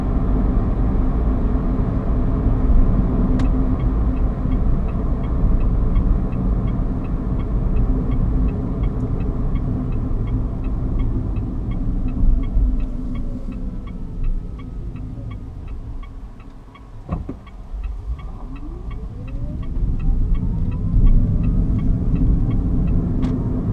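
Inside a moving Mitsubishi i-MiEV electric car, a steady low road rumble and wind noise fill the cabin, with a faint electric motor whine rising and falling throughout, no talking.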